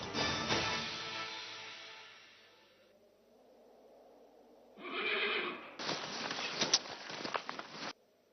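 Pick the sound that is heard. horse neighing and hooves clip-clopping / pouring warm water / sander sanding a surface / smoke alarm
horse neighing and hooves clip-clopping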